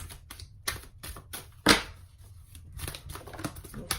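Tarot cards being shuffled and pulled, a run of quick papery riffles and crisp taps close to the microphone, with one sharper slap near the middle, in a quiet room with no talking.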